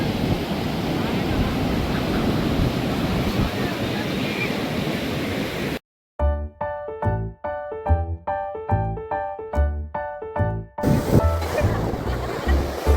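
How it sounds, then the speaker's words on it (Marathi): Ocean surf washes in a constant broad roar at Puri, Odisha, for several seconds, followed by a stretch of music and then the waves return, with some wind buffeting. "आपण बघू शकता, जिकडे नजर जाईल तिकडे दिसतोय आपल्याला समुद्र"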